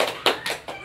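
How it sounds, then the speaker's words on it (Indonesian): A primary school class does the rhythmic 'tepuk semangat' spirit clap at the end of a lesson, three sharp group claps evenly spaced, close and loud, with no talking over them. "Sebelum kita pulang, kita tepuk semangat dulu."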